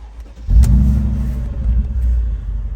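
A Mercedes G55 AMG with a 500 hp V8 starts up nearby with a sudden surge, then holds a loud, deep, rumbling idle with slight throbbing swells.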